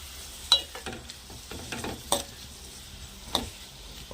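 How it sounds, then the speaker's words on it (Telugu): Onions frying in a pan for an egg and dry prawn curry being stirred: a few soft scrapes and clinks of a spoon over a faint background sizzle, close and quiet, no voices. "ఒకసారి తిప్పేసి మూత పెట్టేస్తే,"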